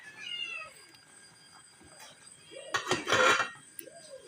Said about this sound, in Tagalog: may mga pusa rin po dito. Marami rin pusang alaga.